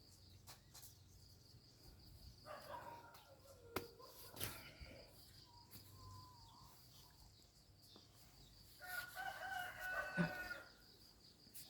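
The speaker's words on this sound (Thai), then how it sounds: "อืมไก่ร้องละ" A rooster crows in the distance in a quiet early-morning room, its call rising and falling near the middle of the stretch, with faint background hum and occasional soft knocks.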